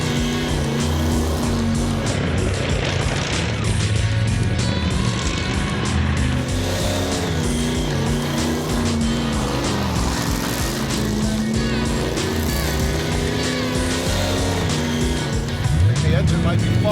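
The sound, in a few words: misfiring engine of a Ford Thunderbird car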